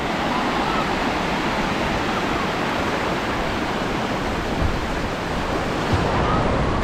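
Ocean waves wash onto a Washington coast beach at low tide, a steady, unbroken roar of surf that fills the whole stretch with no clear breaks between sets.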